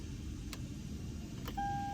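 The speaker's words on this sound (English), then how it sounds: "and now it's beeping?" A steady electronic beep from a Toyota Tundra 5.7 not recognizing a new key starts near the end and holds, over a constant low engine hum.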